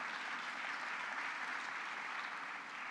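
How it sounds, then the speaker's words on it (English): Dense, steady applause from the audience at a housing awards gala fills the hall, a continuous wash of many hands clapping at even volume throughout with no voices on top. "yes, that's worthy of an applause"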